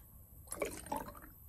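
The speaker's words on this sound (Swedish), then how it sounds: "Den ska vi nu hälla i 3 provrör." Dark purple red cabbage indicator liquid is poured into test tubes in a chemistry lab, a brief splashing trickle of about a second, close and fairly quiet.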